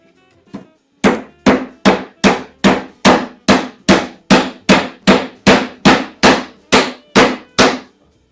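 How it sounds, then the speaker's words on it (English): Hand hammer driving nails into pallet wood while building an apple crate with hand tools: one faint tap, then sixteen loud, evenly spaced strikes in a steady rhythm, close up. "Still have no confidence in nailing"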